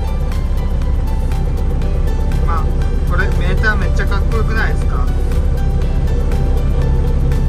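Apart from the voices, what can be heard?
Iseki combine harvester engine running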